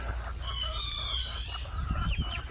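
A young rooster crows near its cage, a drawn-out harmonic cock-a-doodle-doo with a few clucking notes, moderately close with no talking.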